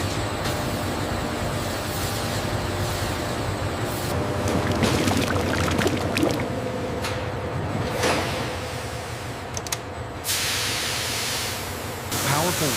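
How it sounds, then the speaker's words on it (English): Powerful water jets spraying and washing dark cellulose pulp in a toilet paper factory, a steady loud rushing hiss with surges and splashes, mixed with continuous machinery noise throughout. "Powerful water jets intensely clean the dark pulp, eliminating impurities and beginning its transformation."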